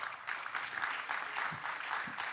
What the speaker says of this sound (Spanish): Den un aplauso a los Gedeones.